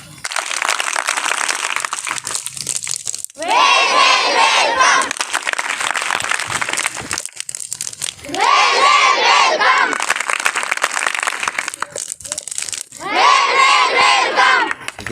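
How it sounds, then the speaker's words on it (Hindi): Schoolchildren give a rehearsed welcome clap and cheer: three loud bursts of rhythmic clapping and shouted chanting, each a couple of seconds long, separated by quieter stretches of background noise. "हमारे बच्चे कैसे वेलकम ताली बजाते हैं"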